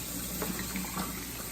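Tap water runs steadily into a sink over raw chicken being washed, a continuous close splashing hiss with small shifts as the pieces are moved around.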